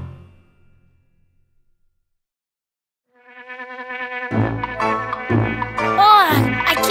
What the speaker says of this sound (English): Oh, I can't live because of these bugs.